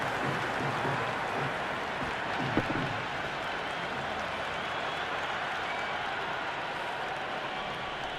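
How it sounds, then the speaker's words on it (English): A stadium crowd in the Cricket 26 video game gives a steady, distant roar of applause and cheering that holds at an even level throughout, with no voices on top. "The crowd is electric right now."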